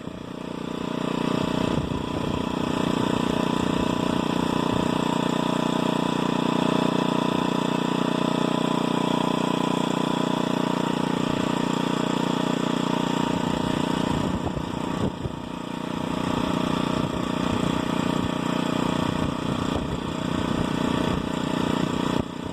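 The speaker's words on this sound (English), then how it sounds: "you can hear the governor compensating for the hill" A motorized bicycle's small engine drones steadily at a constant moderate level, with slight shifts in speed and strain as the governor compensates on a hill, alongside rushing wind noise and no talking.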